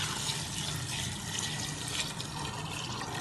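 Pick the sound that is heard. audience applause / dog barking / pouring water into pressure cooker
pouring water into pressure cooker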